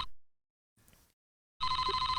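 Telephone ringing in the Famicom adventure game Famicom Detective Club II, a bright electronic trilling ring that cuts off, a short pause and faint sound, then a loud sustained rapid ring starting again.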